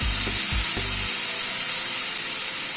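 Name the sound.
chicken leg pieces frying in hot oil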